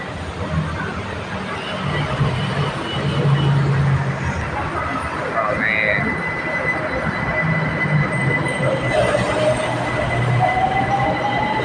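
A BTS Silom Line skytrain at the Saphan Taksin station platform, with rolling wheels and rail noise throughout, a rising squeal and a long tonal whine as the train moves past close by, steady and loud.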